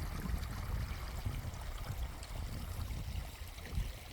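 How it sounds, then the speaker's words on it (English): Shallow water in Beaver Creek trickles and gurgles steadily at low flow, a faint continuous wash with soft low rumbles and no talking. "you can see that the creek really isn't flowing that much"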